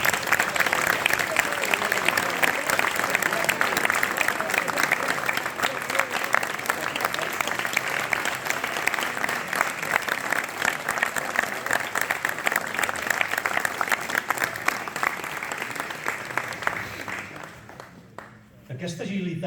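Sustained, dense audience applause fills a concert hall in Sant Vicenç de Montalt, loud and steady for most of the time before tapering off sharply near the end.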